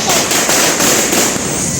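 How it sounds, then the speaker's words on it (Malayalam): Firecrackers burst in a fast, loud crackling volley at a celebratory political procession in Cheruthuruthy, Thrissur, close and harsh throughout. "പടക്കം പൊട്ടി പ്രവർത്തകന് പരിക്കേറ്റു"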